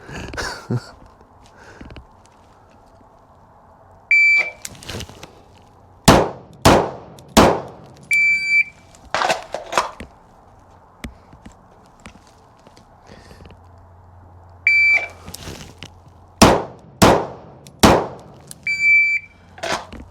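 An M17 pistol fires at a shooting range in two separate volleys of sharp, loud reports, each shot crisp and spaced apart, with metallic clangs and quiet pauses between groups.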